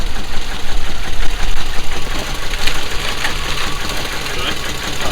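A car engine running steadily at idle, a constant mechanical hum with a faint knocking rattle throughout, recorded close up.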